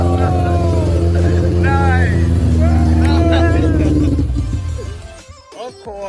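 An engine runs during its first start-up after work on its throttle body, a loud steady rumble with uneven revving that drops off near the end as voices speak over it.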